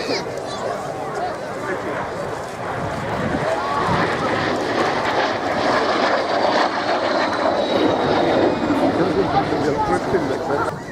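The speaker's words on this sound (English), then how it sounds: "It's the MiG-15." A MiG-15 jet fighter flying at an RAF Cosford air show, a loud continuous engine roar rising and sustained, with a commentator talking over it.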